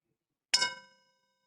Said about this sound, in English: I'll ring the bell when I need you to come back.